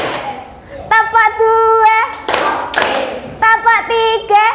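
Children clapping along in a counting clap routine in a classroom, short bursts of claps in rhythmic groups alternating with a teacher's voice and children's spoken replies.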